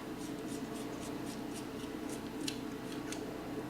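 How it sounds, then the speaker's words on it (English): Small plastic scraping and clicking as the end of a Microsoft Surface Pro 4 pen stylus is unscrewed, a run of light, rapid ticks close up over a steady low background hum, no talking. "So unscrew this here piece here"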